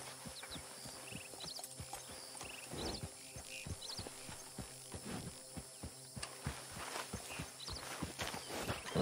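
Hooves of a horse in Red Dead Redemption clip-clop at a walk in an even, steady rhythm, close and moderately loud, with creaking tack and ambient game sounds behind and no talking.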